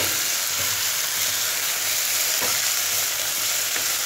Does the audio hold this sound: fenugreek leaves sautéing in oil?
yes